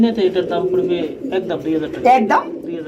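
A pair of large yellow Sirazi pigeons coo in soft, repeated calls, close by, with someone talking over them throughout.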